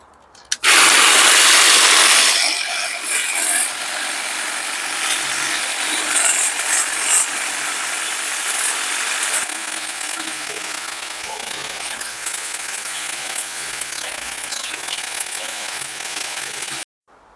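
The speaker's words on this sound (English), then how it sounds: "This is an extendable hedge trimmer, battery operated." A battery-operated extendable Von Haus hedge trimmer cuts through a plum tree, starting loud and settling into a steady, continuous buzz that runs nearly unbroken for the whole stretch before stopping.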